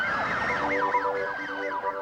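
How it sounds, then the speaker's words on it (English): An emergency siren wails in fast rising and falling sweeps at night in San Francisco, loud and fairly close, with no voices. "Sirens in the night, signals saying go."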